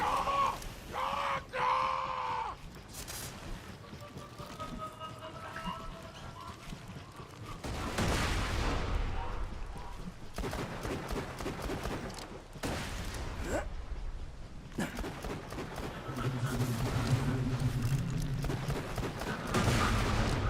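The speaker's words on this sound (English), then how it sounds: "Autogun deployed! Another sentry kill!" A deployed turret autogun firing in the Borderlands video game, with bursts of rapid gunfire and booms mixed into game effects and shouted character voices over about twenty seconds.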